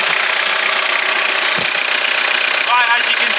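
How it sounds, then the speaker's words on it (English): A Peugeot Partner engine idles steadily just after a timing belt replacement, a loud, even mechanical drone heard up close in a garage, with a voice briefly audible over it. "The engine's running, so hopefully you can hear me."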